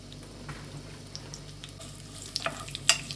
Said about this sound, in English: Once the oil is hot, I'm going to add onion slices and curry leaves. Mustard seeds,